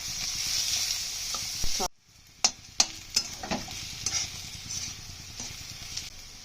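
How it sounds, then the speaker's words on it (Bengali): Ingredients for chicken paturi fry in plenty of oil in a pan until reddish-brown. A steady close sizzle runs throughout, broken by one short silence, then sharp stirring scrapes and clinks. "ভালো করে ভেজে নেবো লাল লাল করে"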